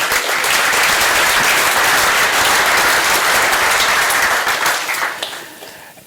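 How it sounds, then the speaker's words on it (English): Sustained applause from a large audience, loud and steady for about five seconds before tapering off. "So another round of applause for all the great sponsors we have here."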